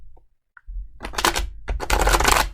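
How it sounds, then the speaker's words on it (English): Tarot cards being shuffled during a reading, a quick near riffle of snapping, rattling card edges in two close dense bursts after a brief pause. "One more shuffle. One more shuffle."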